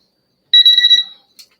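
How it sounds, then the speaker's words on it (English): An auction timer alarm goes off: a sharp, high electronic beep sounds for about half a second, followed moments later by a short fainter blip, in otherwise near silence. "the timer is up"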